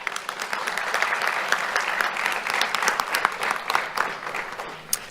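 Steady applause from an audience at a sheriff's office youth awards ceremony, dense clapping lasting throughout, close and loud.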